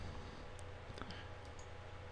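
A computer mouse clicks a few times, sharp and close, with short gaps between the clicks, while a Windows 7 installation runs through its setup screens in an otherwise quiet room.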